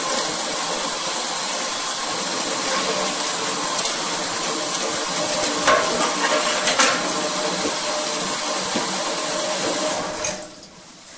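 Water drains from a newly installed utility sink once the strainer is pulled, a steady rushing, gurgling flow that goes on for several seconds and then drops off quickly near the end.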